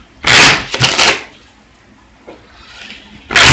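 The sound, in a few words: shuffling a deck of playing cards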